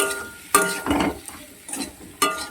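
Ridge gourd frying in a pan, a close sizzle with a few distinct bursts of stirring, scraping and light metallic clinks at irregular intervals, heard alone without speech.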